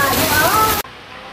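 Rain falling in a garden of cacti, heard from under shelter: a dense broadband hiss of steady rainfall up close that cuts off abruptly partway through, leaving a quiet low background.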